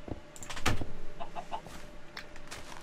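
Minecraft chickens cluck in short, scattered bursts, close by, mixed with a few soft clicks and rustles.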